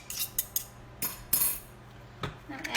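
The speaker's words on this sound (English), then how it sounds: "I've taken a fork and I'm breaking apart my noodles with a couple of forks." Two forks break apart ramen noodles, giving sparse sharp metallic clinks and scrapes in an irregular rhythm, close but fairly quiet, with faint soft clatter between strikes.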